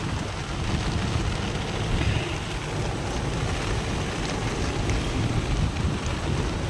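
Steady heavy rain pours down in a dense, continuous hiss at sea off Chennai, with a faint low rumble underneath and no voices.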